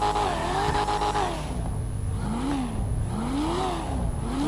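Game car engine during a driving test, revving up and down in repeated rising and falling sweeps with a steady roaring drone, loud and close with no talking.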